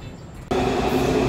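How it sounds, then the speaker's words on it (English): A DC Metro Orange Line train rumbles into the station abruptly, with a loud, steady roar and humming tones filling the space after a brief quieter moment. "This is my train here, Orange Line."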